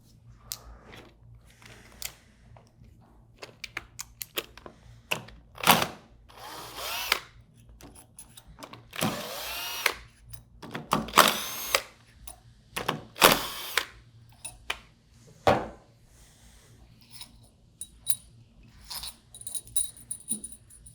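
A power drill removing the four seal housing bolts from a 200 series pump: several short whirring bursts spread over the clip, close and fairly loud, with clicks and handling noises between them in a quiet room.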